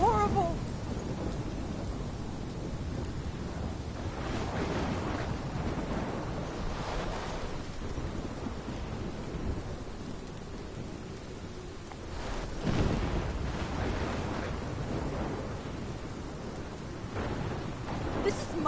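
A thunderstorm rages in the video game Life is Strange: steady heavy rain hiss with low rolling rumbles of thunder swelling now and then, continuous and fairly distant throughout.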